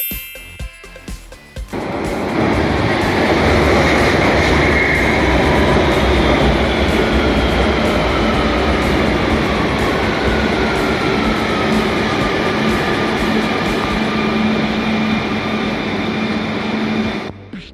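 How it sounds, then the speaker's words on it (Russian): A grey underground metro train runs through a tunnel, a loud continuous rumble and roar with faint rail clatter building after a short start and holding steady to the end. "Это поезд метро. Он ездит под землей в тоннелях."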